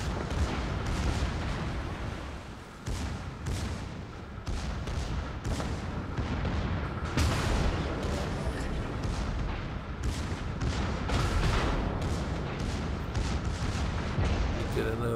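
Battleship main-gun volleys and secondary fire from HMS Dreadnought, a British tier-3 premium battleship in World of Warships, boom repeatedly in dense, loud succession with continuous battle noise and a voice talking over it.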